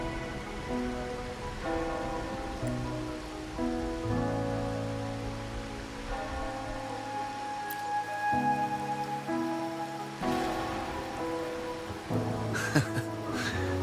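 Steady rain pours in Wuthering Waves, a continuous patter on surfaces beneath sustained musical tones, with no voices.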